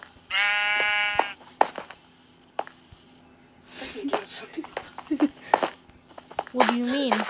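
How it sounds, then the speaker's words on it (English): A sheep in Minecraft bleats in a short, wavering burst near the start, followed by clicks and game sounds under casual talk. "I am fertilizing the sheep."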